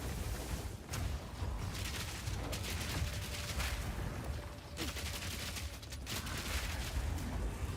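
Grenades going off in the action RPG Path of Exile 2, a string of sharp blasts and crackling bursts spread across several seconds over a low, steady game rumble, moderately loud, with no speech.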